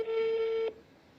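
A telephone call tone sounds while a call is being placed, one steady, clear electronic beep lasting under a second before it stops, leaving faint room noise.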